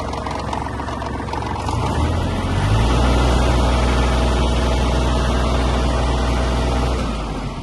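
Diesel engine of a Kubota GL-19 Japanese mini tractor with rotary tiller, idling loudly up close and then rising in pitch as the throttle opens, holding a steady raised drone.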